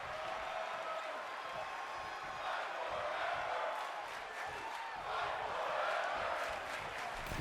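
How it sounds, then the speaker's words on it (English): A wrestling crowd chants in unison inside an arena, a dense, sustained roar with rhythmic swells that stays loud and fairly distant throughout, without commentary over it. "they got a crowd chanting "Fight Forever.""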